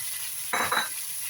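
Pineapple tossed into a pan of frying pork ribs gives a sudden burst of sizzling and stirring midway, loud and short, over a steady low kitchen hiss before and after.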